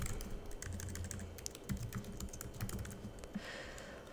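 Typing on a computer keyboard to enter notes, a quick run of soft, close key clicks in an irregular rhythm, heard alone without talk.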